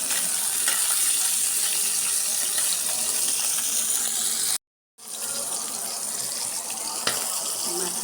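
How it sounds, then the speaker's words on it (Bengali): Tengra fish coated in turmeric and chili fries in oil with a loud, steady sizzle that cuts out for a moment and then resumes. "মাছটি হলুদ মরিচ দিয়ে কেন ভেজে নেব।"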